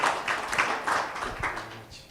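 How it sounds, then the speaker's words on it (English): A conference audience gives a round of applause, scattered claps swelling in uneven bursts, moderately distant and fading toward the end. "please give yourselves another round of applause"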